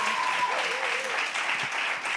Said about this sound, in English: Come on, clap your hand, y'all.